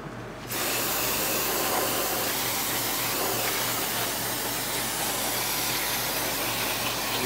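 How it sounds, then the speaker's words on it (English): A continuous, close hiss of an aerosol spray can, starting abruptly and holding steady for several seconds, with a low hum beneath. "And you just spray it right in there."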